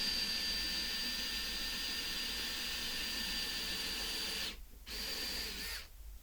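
A power drill with a wood bit bores into wood while a drawer is built with dowels, whining steadily and loud close by for several seconds before stopping briefly twice near the end.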